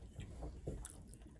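Strawberry candy bits in a Guld Barre snack bar crunch between teeth, with a few quick, soft, close chewing crunches over a moment of quiet.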